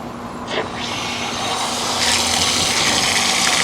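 Water runs steadily from an outdoor beach foot-wash shower, a close hissing spray that swells slightly louder partway through, set against faint outdoor background noise.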